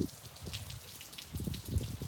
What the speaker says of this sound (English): during weather like this where it just rains all the time